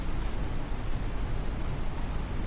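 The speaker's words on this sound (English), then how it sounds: "The rain is quite loud, actually," Heavy rain pours down in Farming Simulator 19 on the Shamrock Valley map, a loud, dense and steady wash of noise that never lets up, with no voices over it.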